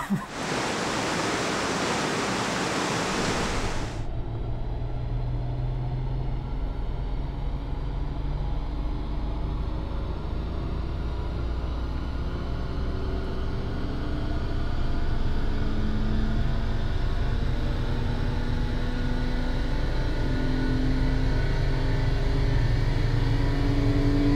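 A car engine with a rebuilt block runs on a dyno for a horsepower measurement, loud and sustained with a steady whooshing roar and rising drone that builds gradually over more than twenty seconds.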